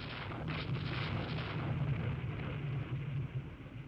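Torpedo hits exploding on warships in the naval strategy game Rule the Waves II, rendered as a continuous low rumbling roar of distant blasts that swells and lingers, with no talk over it.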